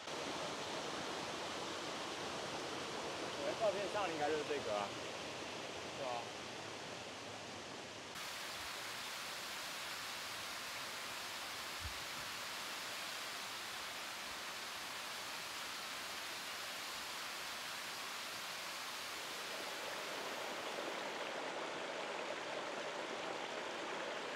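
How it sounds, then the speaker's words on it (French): Erawan waterfall in Thailand pours in a steady broadband rush of flowing water, continuous and fairly close, with no voices over it. "Donc du coup, on voit vraiment la chute d'eau quoi"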